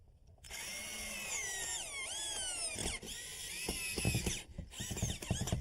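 A power drill drives screws through shims while a front door is installed, its whining motor rising and falling in close bursts, then short spurts as the screw seats.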